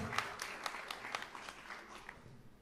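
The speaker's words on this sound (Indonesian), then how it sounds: "Di sini yang pernah LDR mau dengar tepuk tangannya LDR, pasangan LDR" Audience applause at a stand-up comedy special: faint, scattered clapping with loose irregular claps spread across a few seconds, quiet and somewhat distant.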